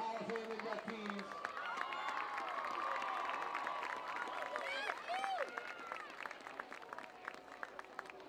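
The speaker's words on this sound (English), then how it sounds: "how about a nice round of applause for all our Hall of Fame inductees?" A crowd in the stands at a Palatine vs Conant varsity high school football game applauds and cheers for Hall of Fame inductees, a sustained, fairly distant wash of clapping and voices with a tonal squeal partway through.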